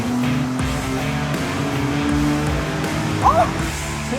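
Naturally aspirated Nissan 350Z engine running on a dyno for a baseline pull, a steady loud drone with a rising tone throughout, close and continuous, with faint voices beneath.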